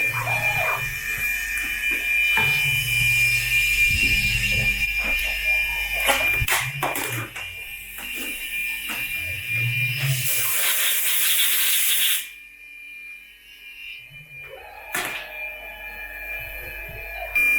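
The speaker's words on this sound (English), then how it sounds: "These chamfer tools do a really good job of getting rid of that." A chamfer tool on a Centroid Acorn-controlled CNC machine deburrs a part with a loud, steady hiss and whine of cutting and spindle noise. The noise cuts off sharply near the end, leaving quieter intermittent clatter.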